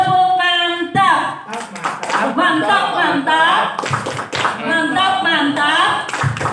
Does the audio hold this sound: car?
no